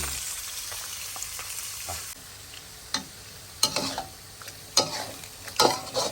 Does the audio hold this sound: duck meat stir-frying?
yes